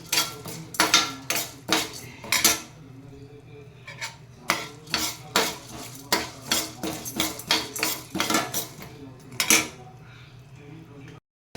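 Urad dal being dry-roasted in a pan on low flame, with repeated scraping and clinking strokes of a metal spoon against the pan coming in irregular bursts, close and fairly loud, over a low steady hum.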